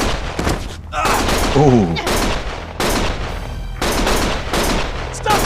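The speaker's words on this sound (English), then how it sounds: "Stop shooting!" Gunfire in the video game Lost Judgment, repeated bursts of shots crackling over game noise, with a voice speaking over part of it.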